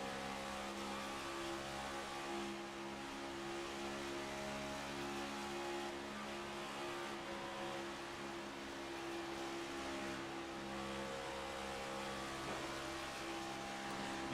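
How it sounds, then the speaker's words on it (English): Next Gen Cup Series stock car engines in a sim racing game at Atlanta speedway, throttle blipping and revving steadily, a dense, continuous pack drone heard close and loud throughout with no talk. "You hear Eric Lake playing with that throttle."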